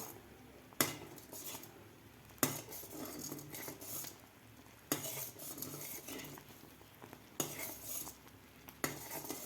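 A spoon stirring jowar flour ambil in a pot, giving quiet, repeated metallic scrapes and clinks against the vessel every second or two, with a soft rustle between strokes and no talking.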